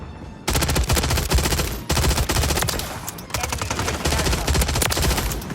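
The AMR9 gun in Modern Warfare 3 fires fully automatic in three long, loud bursts, each a rapid run of sharp shots, separated by brief pauses.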